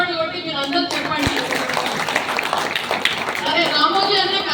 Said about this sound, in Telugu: మీరందరూ కూడా ఒకసారి చప్పట్లు కొట్టి మీరు అందరూ చెప్పండి